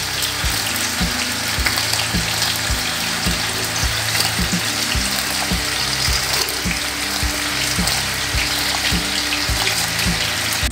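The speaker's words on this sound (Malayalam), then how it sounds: "ഇപ്പം നമ്മുടെ വെള്ളം തിളച്ചിട്ടുണ്ട്" Water at a rolling boil in a pot, ready for rice for fish biryani, bubbling and sizzling steadily with rapid irregular pops close by, loud and continuous with no talking.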